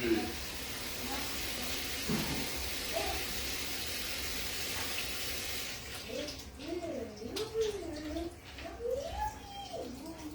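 Water runs steadily from a tap as a broad, even hiss for about six seconds, then fades behind a person talking in French.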